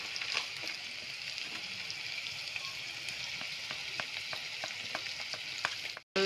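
Masala seasoned with Kashmiri chili powder frying in a pan for chicken curry, a steady soft sizzle with faint crackles and the occasional stir, fairly quiet and unbroken.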